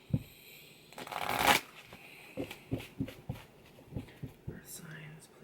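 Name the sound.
shuffling oracle cards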